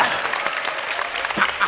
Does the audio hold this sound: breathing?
no